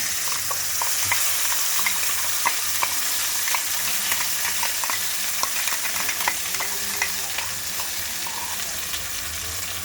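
Onion, tomato, chilli and cashew paste sizzles steadily in a little oil, with frequent scraping and clinking of a spoon stirring it in the pan, close and continuous.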